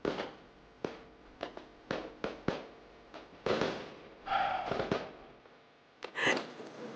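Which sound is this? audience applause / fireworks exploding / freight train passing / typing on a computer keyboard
fireworks exploding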